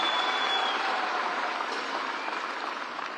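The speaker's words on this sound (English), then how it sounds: "Another round of applause for His Excellency" A dense, steady wash of crowd applause at a political party manifesto launch rally in Kenya, loud and continuous, fading slightly toward the end.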